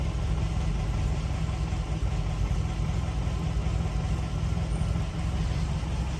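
A 1947 MG TC engine idling after a cold start, a steady, loud, close, even rumble that holds unchanged throughout with no voices.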